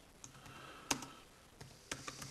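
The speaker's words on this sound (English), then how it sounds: "I'll just type it in anyway" Quiet, sparse keystrokes on a computer keyboard, a few isolated clicks with a brief cluster of taps near the end, faint against a low room hum.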